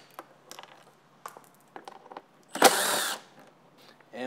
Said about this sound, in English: So now we'll pull the mid panel with our T30.